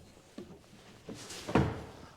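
Old wooden drawers in a large table at a historic English hall are slid and bumped, giving a few soft knocks followed by a louder wooden clunk, close and fairly quiet.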